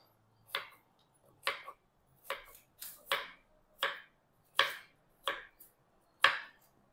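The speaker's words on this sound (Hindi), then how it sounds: "इसके गोल गोल पीसेस मैं कर रहा हूँ।" A knife slices raw green banana into round pieces on a board, giving about ten crisp, close chopping cuts at an unhurried, slightly irregular pace with quiet gaps between them.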